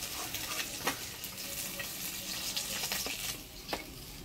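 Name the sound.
fish frying in oil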